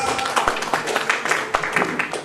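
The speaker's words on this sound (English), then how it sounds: "Give her a big round of applause" Audience applause at a press meet for the film Vijayanand: a steady patter of many hands clapping at moderate volume, with a few sharper claps standing out.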